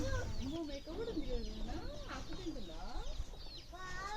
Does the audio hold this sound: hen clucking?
yes